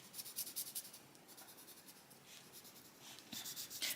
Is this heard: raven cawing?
no